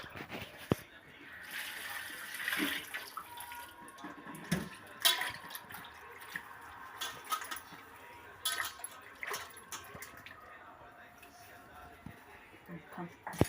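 Vegetables are washed by hand in a bowl of salted water, with intermittent splashes, sloshes and drips throughout while a person talks over the sound.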